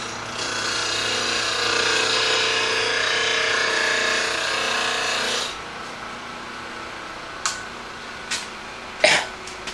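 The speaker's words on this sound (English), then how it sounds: "Lift up until you see shavings coming off the blade" Wood being turned off-center on a lathe, a sharp cutting tool taking shavings in a steady broad rasping hiss for about five seconds, then stopping, followed by a few sharp knocks and clicks in quieter surroundings.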